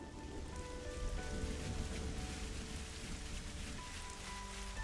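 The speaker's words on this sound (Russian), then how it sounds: "а дождь все еще не прекращается" Steady rain falls in the video game Xenoblade Chronicles 3, a constant dense patter on surfaces with soft tonal game ambience beneath, moderately quiet and continuous throughout.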